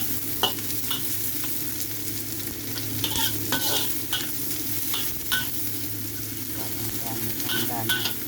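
Garlic and onion sauté in a pan of oil for pinapaitan, a steady close sizzle with repeated scraping stirs, while a person talks over the cooking.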